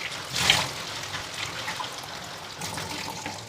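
Tap water runs while cut hilsa fish pieces are washed in a kitchen, a close splashing burst at the start settling into a steady trickling flow.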